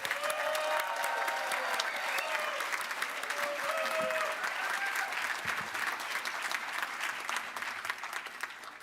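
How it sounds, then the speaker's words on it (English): A large audience at a University of West London graduation ceremony applauds the graduates, producing a steady, moderately distant roll of clapping with a few brief cheers rising above it. "Should we have another big round of applause for these graduates"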